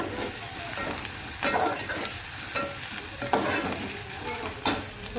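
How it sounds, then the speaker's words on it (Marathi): Ginger and garlic frying in oil in a pan, a steady close sizzle with occasional scraping stir strokes, no talking. "असं मस्त असं छान असं मी आता भाजून घेते अद्रक लसूण"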